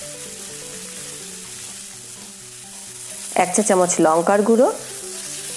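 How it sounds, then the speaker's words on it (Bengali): Spices sizzling steadily in a pan while being stirred, including turmeric, chilli powder and salt for a vegetarian chorchori, a constant close frying hiss with someone speaking briefly over it. "এবার ভালো করে আবার নাড়াচাড়া করে নিচ্ছি"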